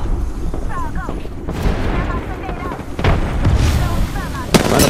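Grenades exploding in Apex Legends, heard as several booming blasts and crackling gunfire-like bursts over continuous battle noise, with a voice talking underneath.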